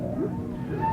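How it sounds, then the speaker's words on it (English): Mournful cries of a female orca whale grieving her lost mate: long, continuous tonal moans that rise and fall in pitch over a low rumbling background, fairly loud and heard alone without any talking. "Whale cries."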